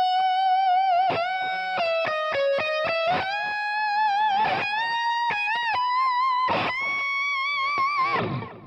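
Electric guitar solo phrase played alone, a run of sharply picked sustained notes with slides and vibrato, ending on a ring-finger bend that rises and rings out with long sustain.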